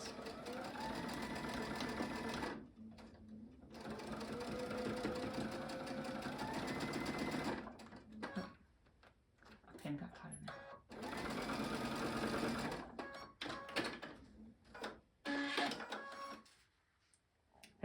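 A sewing machine runs in bursts while stitching a quilt block seam on an Ohio Star block, its steady motor whir broken by short pauses, with brief talk in the gaps between runs.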